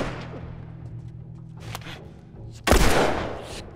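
Gunfire in The Last of Us, with a sudden loud close blast erupting after a stretch of rumbling, scattered game noise and then fading out.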